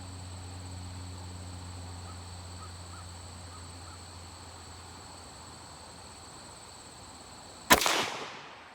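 A single sharp rifle shot from a mildly sporterized U.S. Model 1898 Springfield Krag-Jorgensen fired at a target, cracking loudly near the end after a long stretch of quiet outdoor ambience with a steady hum, then decaying quickly.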